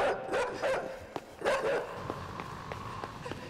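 A dog barks and yips several times in the video game Inside, sharp repeated calls in quick clusters, moderately loud, followed by fainter scattered ticks and clicks.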